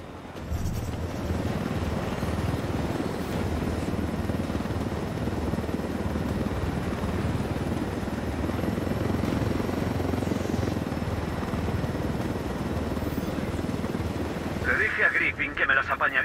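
A helicopter in the video game Tom Clancy's Ghost Recon Wildlands drones continuously and evenly throughout, with a brief electronic chatter near the end.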